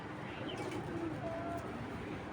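A Pakistani Giribaz pigeon coos softly in a few drawn-out calls, faint and close over a low background hum.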